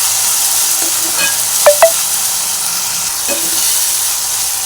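Tomatoes for a cauliflower egg curry simmer and sizzle in a pan, a steady loud hiss broken by a few brief clinks of a utensil stirring, with no voices.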